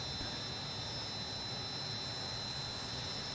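F-14 Tomcat jet engine in a flight simulator game, a steady broadband roar with a high whine, constant and unbroken, with no voices.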